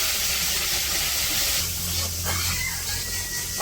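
Ginger-garlic paste hits onions in a hot wok over a village fire, giving a steady, close broadband sizzle and hiss that holds throughout with no talking.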